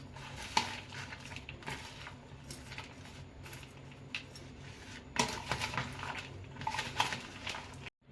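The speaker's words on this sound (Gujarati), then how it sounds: "લીલા ધાણા એડ કરીને આપણે આ રીતે મિક્સ કરી લઈશું." Farali bhel mixed with fresh green coriander in a dish gives light clinks and scrapes of a spoon against the bowl, with scattered taps and a busier patch of clatter near the end, faint and close.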